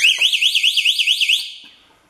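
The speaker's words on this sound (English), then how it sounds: "you're going to hear an alarm. It'll sound like this." A loud electronic flow alarm on a Mafex ULV potato applicator, signalling an atomizer fault, warbles in a fast, steady up-and-down pattern for over a second, then cuts off and fades.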